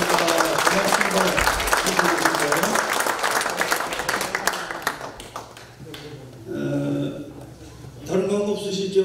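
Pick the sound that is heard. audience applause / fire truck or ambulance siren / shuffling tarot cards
audience applause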